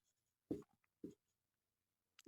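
Writing on a board during a Class 10 math lesson on real numbers: a few short, soft scratchy strokes, two close together and a third after a pause, quiet in an otherwise silent room.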